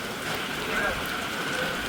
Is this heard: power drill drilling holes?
no